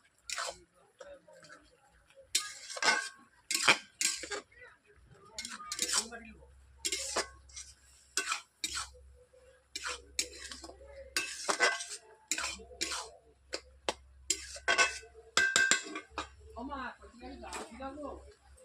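Spinach and vegetables stirred in an uncovered wok on the stove, with repeated clinks and scrapes of a spatula against the metal in an irregular rhythm, heard alongside someone talking in a home kitchen.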